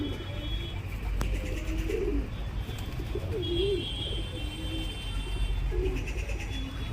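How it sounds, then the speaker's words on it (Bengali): A flock of pigeons in assorted colours, feeding on rice at a home, coo repeatedly in low rolling phrases, several birds overlapping close by over a steady background hum, with no talk. "কত রকমের দেখুন পায়রারা, অনেক রকম কালার আছে এর মধ্যে"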